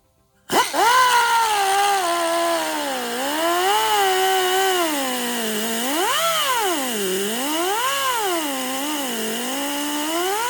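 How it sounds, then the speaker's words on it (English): A power tool cuts into a part of a Honda CBR900RR SC28 Fireblade motorcycle, starting abruptly into a loud, continuous whine whose pitch repeatedly sags and rises as the blade bites under load. "Then I'm gonna go ahead and cut it."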